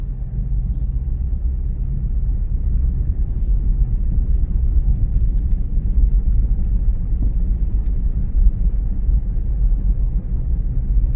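Vehicle riding into the small mountain town of West Jefferson on a cool 39-degree autumn morning, a steady low road rumble and engine drone throughout, close and continuous with no talking.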